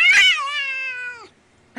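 A single drawn-out house cat meow, close and clear, falling in pitch before stopping, followed by the start of another short call.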